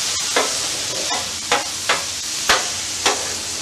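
A spatula scrapes leftover onions across a hot flat top grill. About five sharp, loud scrapes come at uneven intervals over a steady close sizzle.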